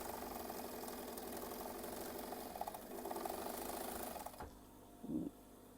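An overlocker sewing machine stitches around the edges of a large Christmas stocking, a steady fast mechanical hum and rattle that runs for about four seconds, then stops abruptly, leaving quiet with a short low thump.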